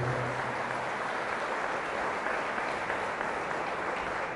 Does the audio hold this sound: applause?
yes